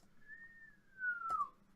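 During a tabletop fantasy role-playing game, a person whistles once to imitate an incoming arrow. The single long tone slides slowly downward and ends in a brief soft knock. It is faint and close, with no other sound around it.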